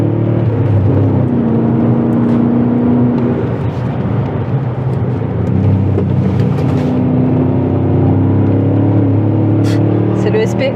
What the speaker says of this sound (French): Nolwenn, Putain, essaye de tirer une vitesse quand tu seras à proximité de moi